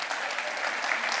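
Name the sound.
audience clapping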